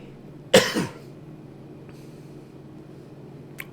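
A single sharp cough from a person nearby, loud and brief, followed by a quieter second burst, then a low steady background hum with a faint click later.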